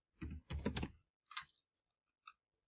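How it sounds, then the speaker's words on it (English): Computer keyboard typing in short, close clattering bursts, followed by a few isolated key clicks trailing off into quiet. "So you type in whatever you want to type on here."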